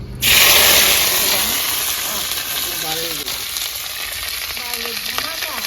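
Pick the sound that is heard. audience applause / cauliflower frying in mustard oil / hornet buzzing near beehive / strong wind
cauliflower frying in mustard oil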